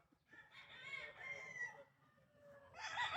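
A gamecock rooster at a farm crows in one drawn-out call, then starts a second at the end, clear and fairly close with no talk over it.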